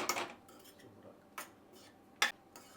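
A utensil stirs tamarind rice in a pan, giving three distinct scraping clinks spaced about a second apart, close and clear with quiet gaps between them.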